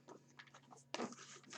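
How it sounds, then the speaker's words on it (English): A Psychic Tarot deck is shuffled by hand in soft papery riffles and taps. A sharper burst of flicking cards comes near the end, close and quiet. "shuffle these cards"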